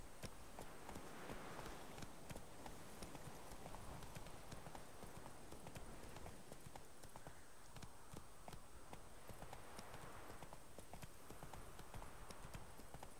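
Horse hooves clip-clop in a steady, quick rhythm throughout in the video game The Witcher 3: Wild Hunt, a continuous trotting beat over a faint background hum.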